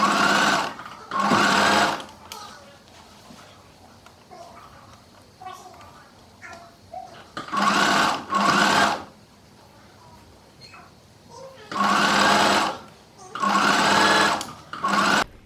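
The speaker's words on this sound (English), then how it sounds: "take your pins out as you go around the sewing machine" A sewing machine whirs in four short bursts of fast stitching on a midi skirt, separated by quieter pauses with faint handling sounds.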